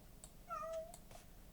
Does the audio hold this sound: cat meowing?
yes